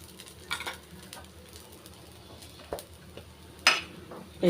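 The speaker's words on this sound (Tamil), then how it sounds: "கொஞ்சமாக எண்ணெய் விட்டுக்கிறேன்" Oil sizzling under a coconut dosa cooking in a pan, a steady soft hiss with a few brief utensil clinks and scrapes rising over it, close and fairly quiet.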